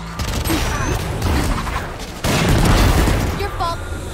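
A grenade goes off in the tactical shooter Valorant, a sudden loud boom landing partway through amid bursts of gunfire and game noise, with a voice talking over it.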